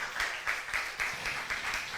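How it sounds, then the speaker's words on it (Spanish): A church congregation claps hands together in a steady, rhythmic beat, several sharp loud claps about every quarter second, with a faint voice underneath. "Dele fuerte palmas al Señor si usted lo cree en esta mañana."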